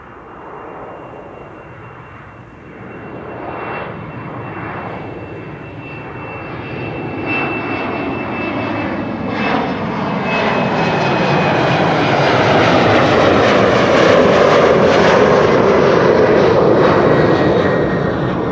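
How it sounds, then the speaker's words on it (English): A KLM Embraer 190 jet at Amsterdam Schiphol Airport, its engine roar building gradually from a distant whine into a loud, broad rumble that swells and holds steady throughout. "time to continue with an Embraer 190 to Stuttgart, KLM Flight"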